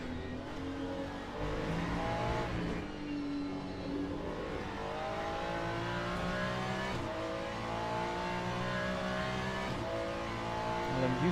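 Race car engine in the Le Mans Ultimate racing game, droning steadily and loud with rising and falling revs through gear changes as the car accelerates and brakes over several seconds.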